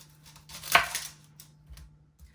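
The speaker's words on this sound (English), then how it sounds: "So I'm going to slice my onion." A knife cuts through a large onion on a board, one crisp slicing crunch followed by a few fainter taps and scrapes, close up in a quiet kitchen.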